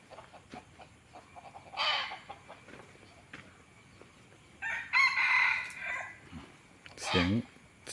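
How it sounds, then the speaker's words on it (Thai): A wild red junglefowl hybrid rooster crows in the open, with two loud, drawn-out calls rising over a busy background of other birds and rustling, the second crow near the end of the stretch. "เสียงขันเพราะเป็นเสียงป่า"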